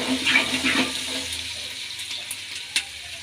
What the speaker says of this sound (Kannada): ಈಗ ಒಂದ್ಸಲ ಎಣ್ಣೆಲಿ ಫ್ರೈ ಮಾಡ್ಕೊಳ್ಳೋಣ ಎಲ್ಲ ಸ್ವಲ್ಪ ಎಣ್ಣೆ ಫ್ರೈ ಆಗಲಿ